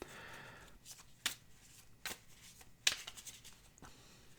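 A deck of cards is shuffled close by: quiet riffling and shuffling, broken by several sharp, crisp snaps and flicks spaced about a second apart, with no speech.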